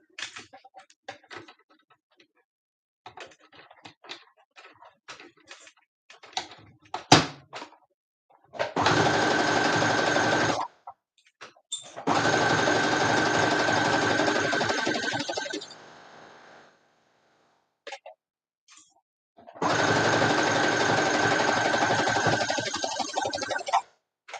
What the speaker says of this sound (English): Now we're going to sew these side seams.